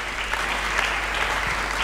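A church congregation applauds steadily and loudly throughout, a dense wash of clapping with no pauses.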